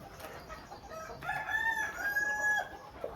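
A rooster crows once, long and drawn out, with hens clucking nearby and a low farmyard murmur underneath.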